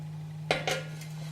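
Spoon scraping and tapping against a bowl while portioning vegan cinnamon pancake mixture: two quick close clinks a moment apart, then a faint third tap, over a steady low hum.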